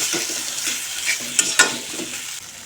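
Boiled potatoes are sautéed with spices in a pan, a loud nearby sizzle carrying repeated scraping and knocking from a stirring spoon, with two sharper clacks near the middle; nobody talks.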